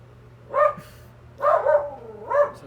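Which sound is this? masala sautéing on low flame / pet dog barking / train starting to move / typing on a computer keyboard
pet dog barking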